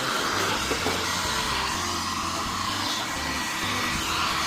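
A hair dryer blows steadily on a bath toy doll, a loud continuous whooshing hiss with a low motor hum, close up and alone.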